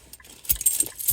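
A brief close jingle of a car smart key for a 2018 Infiniti Q50 being handled, a quick metallic rattle lasting about a second with no talk.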